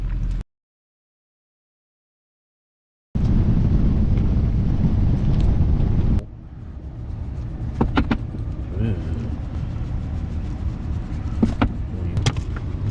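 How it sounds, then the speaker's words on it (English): Gusty wind buffets the microphone in loud, rumbling bursts, with a brief silent gap early on and calmer blustery noise later. "Kinda windy."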